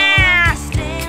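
A cat in a children's cartoon gives one loud, close meow that slides downward, then two shorter meows, with no other sound.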